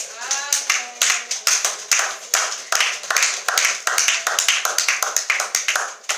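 A church congregation claps in a steady, lively rhythm after a Bible reading, many hands beating together in a roughly even pulse, fairly close and continuous, with a few voices faintly mixed in.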